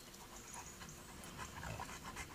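A dog pants quickly and rhythmically at close range, a soft steady run of breathy huffs with no talking over it.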